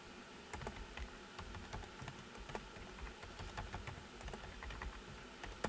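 Fingers typing on a computer keyboard, a quiet, close run of irregular clicking keystrokes with no voices.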